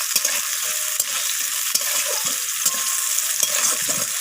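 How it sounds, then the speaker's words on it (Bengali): Moringa drumsticks stir-fried with onions in a pan: a constant, close hiss of frying oil with light, irregular clicks and scrapes of the stirring spoon throughout. "ডাঁটাগুলোকে কিন্তু পেঁয়াজের সাথে একটু নাড়াচাড়া করে ভাজা করে নিচ্ছি"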